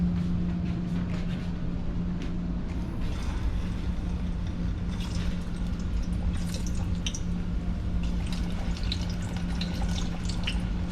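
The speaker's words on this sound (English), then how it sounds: "now I'm going to add my ripe plantain to the grease" Ripe plantain frying in hot grease for a Jamaican breakfast makes a continuous crackling sizzle with scattered pops and spits, close and steady throughout.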